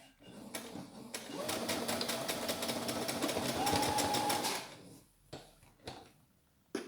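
A top loader sewing machine stitches a seam with a fast, steady mechanical whir and clatter that lasts several seconds and then stops, followed by a few knocks and handling sounds.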